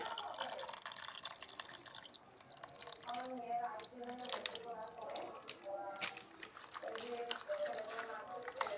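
Milk poured into a pan while cooking, a soft liquid splashing and dripping sound with some squishy bubbling, close by and fairly faint, with a voice talking over parts of it.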